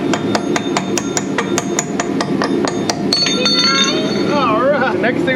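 A hammer whacks a part during water pump and thermostat replacement on a 2008 Smart ForTwo: about a dozen sharp, evenly spaced metallic blows ring out close by, then voices talk over the work.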